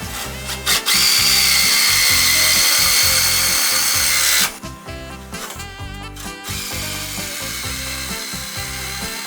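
Power drill driving screws into a wooden ramp frame being built for a home, shed or dog, with loud, sustained whirring bursts that stop and restart in a choppy rhythm, close up and without talk.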